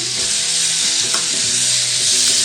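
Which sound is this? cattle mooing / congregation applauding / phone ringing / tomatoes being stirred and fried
tomatoes being stirred and fried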